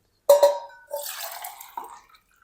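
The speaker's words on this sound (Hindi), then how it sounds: "दालें जो हैं ये टोटल 2 कप हैं, तो इसके अंदर ना हम 6 कप पानी शामिल करेंगे।" Water is poured into a pot of mixed lentils for tadka dal, coming in a couple of short splashy bursts with brief gaps, close and clear with no talking.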